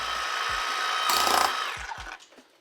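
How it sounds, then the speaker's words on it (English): A power drill whirs steadily into brick during a house rewire, with a louder burst midway as it bites, then winds down into short rattling knocks as it stops. "Tell you what, it's a nice drill."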